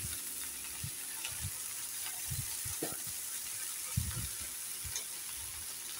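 Okra frying in a couple of spoons of oil in a pan, a steady soft sizzle with scattered scraping and clinking of a stirring spoon, close and fairly quiet.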